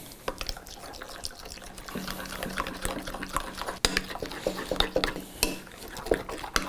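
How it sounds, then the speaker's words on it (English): Lemon juice and salt sauce being stirred in a bowl, with steady clinks and scrapes of a utensil against the dish, close and fairly quiet with irregular taps throughout. "Now let's give this a mix."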